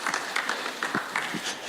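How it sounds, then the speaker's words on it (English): A crowd at a government programme launch in Kenya claps in scattered, uneven bursts, fairly faint and distant, with some voices mixed in. "One more round of applause for His Excellency."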